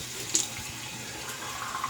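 Cold water runs steadily from a kitchen or bathroom tap, South Central Texas limestone-aquifer water, a close, even rush with no voices over it.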